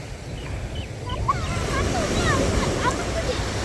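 Ocean waves at Al Aqah beach in Fujairah make a steady, broad surf wash that builds midway, while several people talk and call out over it.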